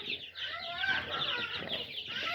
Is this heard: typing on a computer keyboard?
no